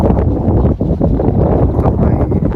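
Strong wind gusts across an open rural spot near a river in Russia in spring, loud, rough buffeting against the microphone that rises and falls throughout, with no clear speech.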